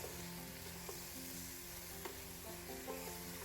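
Close, steady sizzling of ingredients being sautéed with salt in a pan for a simple Moroccan vegetarian dish, with occasional stirring clicks and scrapes and no voices.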